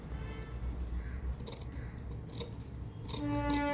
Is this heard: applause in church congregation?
no